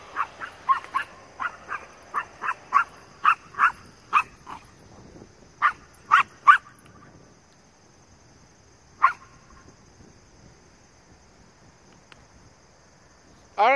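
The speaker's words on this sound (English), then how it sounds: "my dog is going to bark like crazy" A dog barks in a rapid run of sharp, fairly close yelps, then goes quiet with a few isolated barks after a pause, and a single bark at the end.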